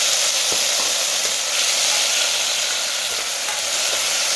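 Tomatoes going into hot oil in a frying pan while making a sardine-style fish curry, a loud, steady bright sizzle and hiss with faint stirring taps now and then.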